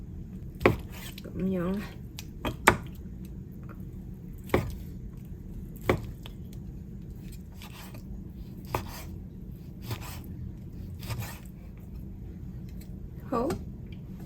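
A knife chops lean meat into slices on a board, giving sharp, irregular knocks spread across the clip, close and clear, while a person speaks briefly.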